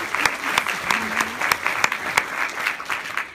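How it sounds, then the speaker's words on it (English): Audience applause at a fashion show, a steady patter of clapping with sharp individual claps standing out, fairly close and continuous across the moment. "Let's give City Range a round of applause."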